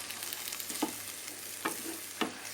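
Green beans stir-fried in a pan give a steady, faint sizzle with a few soft scrapes as they are stirred, and no one speaks.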